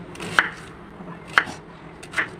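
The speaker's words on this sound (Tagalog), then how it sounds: "Ayan, next sibuyas. Ganito pag slice para mag-square siya." A knife slices through onions on a cutting board at home, three sharp separate chops spaced about a second apart in a quiet kitchen.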